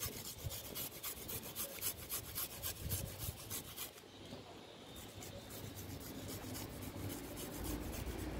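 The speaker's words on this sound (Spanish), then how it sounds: "rallaremos un diente de ajo" A garlic clove is rubbed against a kitchen grater, a continuous close rasping scrape with fast back-and-forth strokes and only a brief pause midway.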